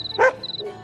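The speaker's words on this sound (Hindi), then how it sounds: "थोड़ी दूरी पर गांव के कुत्ते भौंक रहे थे।" A village dog barks once at night, a single short bark over a quiet background with a faint high tone.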